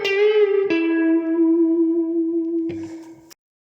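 An electric guitar plays the second phrase of a song's solo, with a bent note that sustains and rings out, then a few quieter notes before an abrupt stop; the tone is clean with some effects and reverb.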